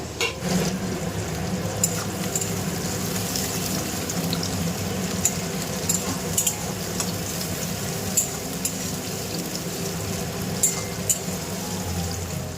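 Chicken sizzles loudly after being added to a hot pan, a dense close frying hiss with stirring scrapes and some watery spitting throughout, no voices.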